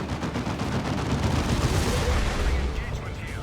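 Gunfire and explosive battle noise from a 3v3 match of the Warhammer 40,000: Dawn of War 2 strategy game, a dense, continuous clatter of shots and blasts filling the whole stretch without a break.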